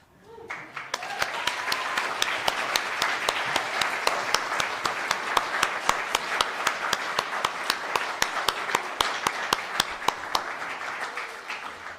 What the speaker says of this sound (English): we'll give them one more round of applause as they find their seats